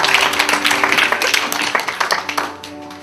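A church congregation applauding in praise to God, a dense wash of many hands clapping that holds steady and then thins out toward the end.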